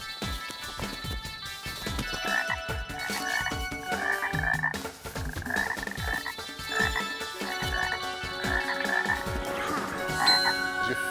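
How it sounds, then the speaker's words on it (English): Wood frogs (Rana sylvatica) croak in a steady chorus of short, clucking calls repeating throughout, fairly loud and close, with no talking over them. "You found one, a wood frog, Rana sylvatica."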